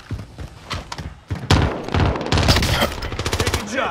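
Video game gunfire bursts out in rapid, loud volleys, a mix of single cracks and sustained automatic fire, with players talking amid the shooting.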